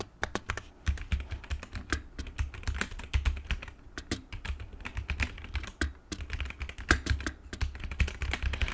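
Rapid, clicky keystrokes clatter on an ASUS ROG Azoth mechanical keyboard in uneven bursts, close and moderately quiet, with no voices.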